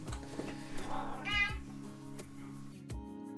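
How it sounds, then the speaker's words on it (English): A pet cat lets out a couple of meows near the microphone, the second one longer and louder, over a quiet humming room with a few faint knocks. "Look at my cat."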